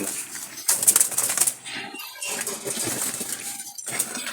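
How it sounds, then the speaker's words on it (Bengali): Wild Jalali pigeons from Dhaka flutter and flap their wings close by in a coop, giving bursts of rustling wingbeats with a few small clinks and brief quiet gaps. "এগুলো খুবই চমৎকার কোয়ালিটি কবুতর, একদম অস্থির"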